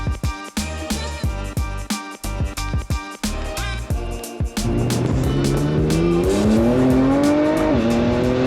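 A 2013 Nissan R35 GT-R idles with a pulsing, throbbing engine, then pulls away hard. The motor's tone climbs steadily through the gears, loud and close, with a brief tire chirp in the mix.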